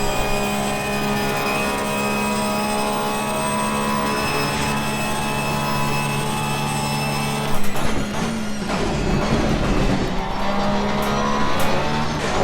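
Racing game on Xbox with a car engine droning steadily at high revs, then a rougher burst of engine and tire noise around a tight corner, with tires squealing briefly; no talk.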